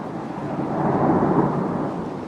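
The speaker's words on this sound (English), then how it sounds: "the rains are coming down" Heavy rain pours down in a steady, dense hiss with a low rumbling undertone, heard alone for a couple of seconds at moderate loudness.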